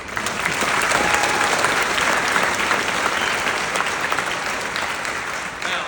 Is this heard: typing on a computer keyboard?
no